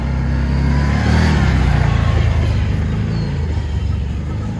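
An Aodes Sportcross 1000 UTV runs and drives close by with a loud, steady engine drone and a deep rumble that swells slightly and then eases. No talking is heard.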